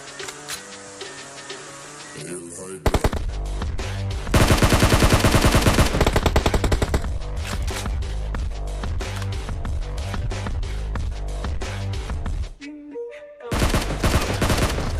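Rapid automatic gunfire bursts from PUBG Mobile combat, loud and dense, with sustained rattling volleys, a brief pause near the end, then more shooting.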